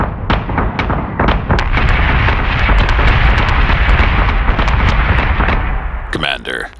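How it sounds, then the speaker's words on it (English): Missiles exploding during a space battle in the video game Battlestar Galactica Deadlock, a dense barrage of loud booming blasts and sharp bursts rolling continuously over a heavy rumble. "Launching fighters! Missiles incoming!"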